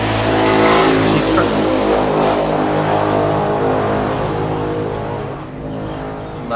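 A loud motorbike engine revs close by with a rough, harmonic roar that swells and then slowly falls away, dipping near the end before picking up again.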